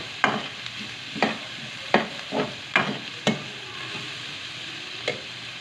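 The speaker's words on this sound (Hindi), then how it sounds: "उसी में हम प्याज को हल्का ब्राउन कर लेंगे।" Onions browning in a frying pan for a chicken and bitter gourd (karela) dish, with a steady sizzle broken by several distinct scraping stirs of a spoon, close up and with no talking.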